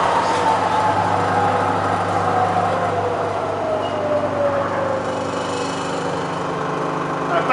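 Spindle of a Bridgeport vari-speed milling machine running at about 2,400 RPM, a loud continuous motor drone and whine holding steady with a slowly falling tone.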